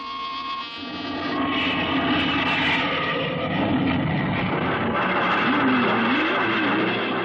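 A jet aircraft takes off in an old-time sci-fi radio drama sound effect: a steady droning roar swells and holds, with a rising, wavering whine toward the end and no talking.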